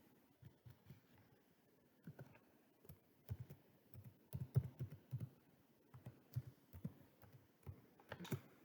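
Login credentials typed on a computer keyboard in a quiet room, soft irregular key taps coming in bursts and pauses, close and fairly faint.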